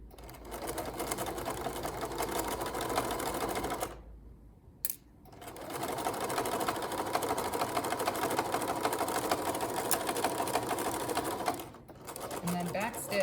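A sewing machine stitches along the edge of a fabric fold in a steady, continuous whir with rapid needle chatter, pausing briefly twice before running again at close range.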